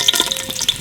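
Whole cloves, cinnamon, green and black cardamom and peppercorns sizzle in hot oil while a gravy for paya soup is started, giving a steady crackling fry with a few sharp pops, close and moderately loud.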